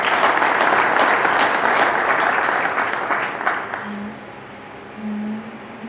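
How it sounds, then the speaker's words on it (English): A conference audience claps in honor of a late co-founding member, a dense, loud round of applause that thins out and fades after about three and a half seconds, followed by a brief hum and quiet murmurs. "So we can just clap hands in this recognition"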